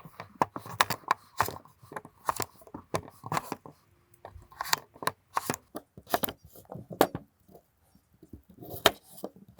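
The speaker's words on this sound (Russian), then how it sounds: "Картошка у меня очень мелкая, поэтому я буду резать ее вот таким образом." A knife chops very small potatoes into wedges on a board, a series of irregular, crisp close knocks and taps, some in quick bursts, with quiet pauses between.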